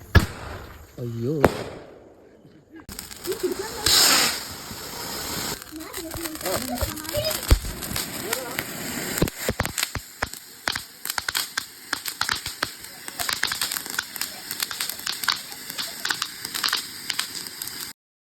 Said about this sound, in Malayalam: വിഷു ഒക്കെ കഴിഞ്ഞെങ്കിലും ഇന്നാണ് നമ്മൾ പടക്കം പൊട്ടിക്കണേ